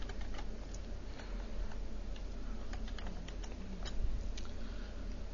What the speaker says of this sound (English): press Ctrl V on the keyboard